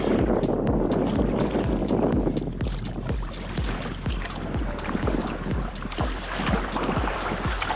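Strong wind roaring over open water in the Everglades while a small boat is paddled, a constant heavy rush with rhythmic paddle strokes and splashes about every half second, no voices.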